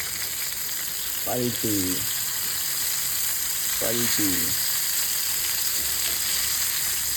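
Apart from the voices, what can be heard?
bombil fish coated in flour and rava frying in oil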